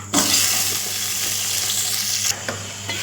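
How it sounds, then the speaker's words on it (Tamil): Brinjal pieces sizzle and fry in hot oil in a kadai for oil brinjal kuzhambu, a loud, continuous crackling hiss with faint stirring scrapes, heard alone and close. "ஒரு வடச்சட்டில் எண்ணெய் ஊற்றி கத்திரிக்காயை நல்லா வணக்கிக்கோங்க"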